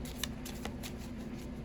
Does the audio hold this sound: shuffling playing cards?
yes